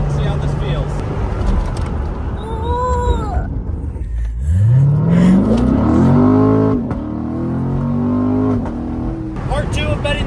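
A Chevrolet C7 Corvette Grand Sport engine rises in pitch as the car accelerates hard, then shifts and eases off, heard from inside the car with road noise and some talk under it.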